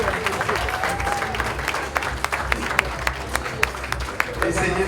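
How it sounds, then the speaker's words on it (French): Guests applauding at a surprise party for a father, a continuous crowd of clapping with sharp individual claps standing out, mixed with background chatter and voices. "Merci d'applaudir."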